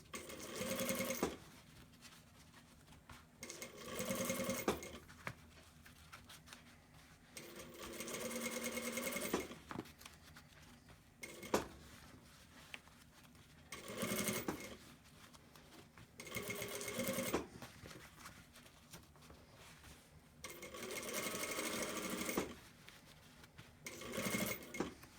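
Sewing machine stitching a cloth face mask, running in several steady bursts with short pauses and quick reverse back-tack stitches, close and clear with no talking.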